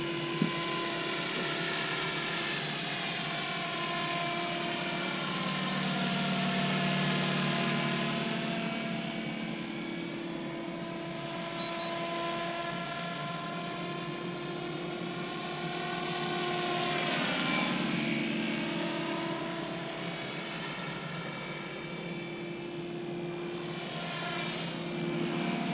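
A Red Goblin 500 RC helicopter spooling up for its very first run, with a steady whining rotor and motor tone that slowly rises and falls in pitch, heard close and continuous with no talk.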